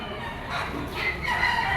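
A gamecock of pumpkin sweater, yellow-legged bloodline crows once, a loud drawn-out call rising in the middle, set against busy market background noise.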